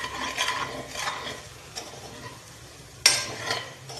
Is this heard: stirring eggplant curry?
yes